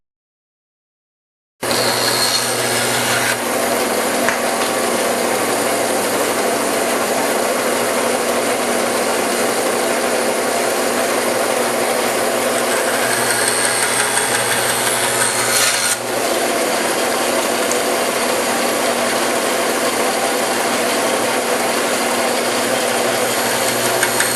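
A belt sander grinds steadily against a wooden axe handle for over twenty seconds, a loud continuous rasping whir with a motor hum underneath, briefly changing pitch midway.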